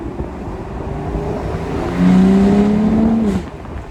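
A 2006 Aston Martin DB9 Volante with a 5.9-litre V12 revs up, its exhaust note climbing steadily into a loud, sustained rising drone before easing off, heard close with no talking.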